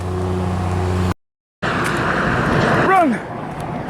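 Car traffic on a road beside a trail crossing rushes past in a loud, broad roar, cutting briefly before another vehicle swells close by; a voice speaks over it.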